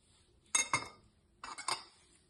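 Metal fork mashing avocado in a bowl, two short bursts of clinking and scraping strikes against the dish, close and crisp with a quiet pause between them.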